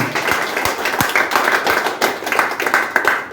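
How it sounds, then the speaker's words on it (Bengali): An audience at an office dealer meet claps hands in a loud, dense burst of applause that carries on steadily throughout. "জোরে হাত তালি একটা দিন"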